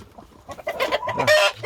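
A hen and a rooster cluck and squawk agitatedly in a brief close scuffle in a rooster pen, loud sharp calls rising at the end.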